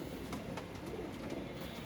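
Domestic pigeons coo softly and faintly, with several short, low calls rising over a quiet, steady background.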